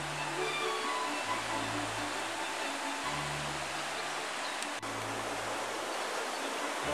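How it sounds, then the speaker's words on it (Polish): Steady broadband rush of water pouring over a small dam on a white-water mountain river, continuous and fairly close, with a low intermittent hum drifting in and out beneath it. "Mamy tutaj wodospad i jednocześnie niewielką zaporę"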